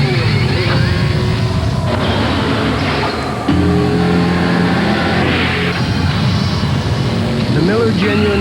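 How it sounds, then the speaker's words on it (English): A Miller Genuine Draft Rusty Wallace stock car engine roars and revs loudly for several seconds, with a brief dip midway before the engine climbs again, under a voice speaking. "Miller Genuine Draft Rusty Wallace stock car."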